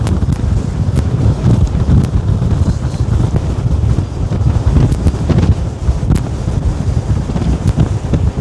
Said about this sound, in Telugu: టాస్మాన్ సీ నుండి వస్తున్న గాలులు అవి